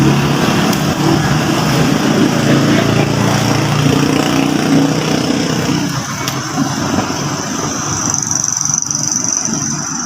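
A Yamaha Mio Sporty scooter with a battery that keeps running flat runs its engine close by. The engine drone is loud and continuous for about ten seconds, with no talking.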